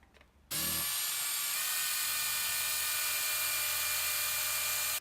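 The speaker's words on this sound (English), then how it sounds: "I made a simple jig to make it easy to drill perpendicular holes into the bottoms of the" Power drill boring perpendicular holes into the bottoms of recycled timber balusters held in a simple jig: a brief quiet start, then a loud, steady high whine running without a break to the end, with no talk.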